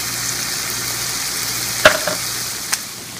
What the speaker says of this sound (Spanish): Ponemos nuestra carne a freír.